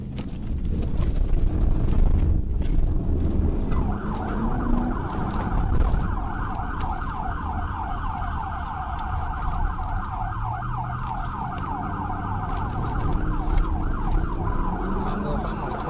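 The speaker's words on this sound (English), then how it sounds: "The trooper activated his siren briefly in an effort to get the driver's attention" A police siren wails in rapid repeating sweeps, loud and close, over engine rumble and wind buffeting on the microphone.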